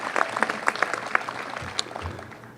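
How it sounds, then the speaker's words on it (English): Applause from an audience at a 2018 convocation ceremony, a loose patter of claps that thins out and fades over a couple of seconds. "Can we get one more round of applause?"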